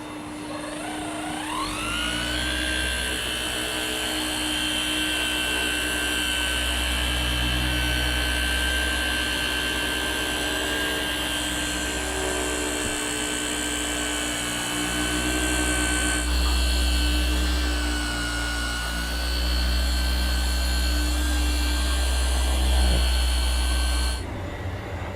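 A FLEX PXE 80 compact polisher buffs scratches out of a painted surface, its motor whining loud and steady throughout with slight shifts in pitch.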